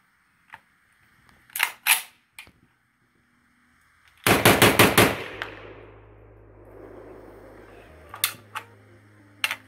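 Type 81 rifle firing at an outdoor shooting range: a few scattered sharp reports, then a tight rapid burst of loud shots with a ringing decay, and a couple more isolated cracks near the end.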